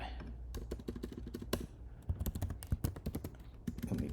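Code being typed on a computer keyboard during a statistics programming session, a quick run of close, crisp key clicks in uneven bursts, broken by short pauses, with a voice speaking over parts of it.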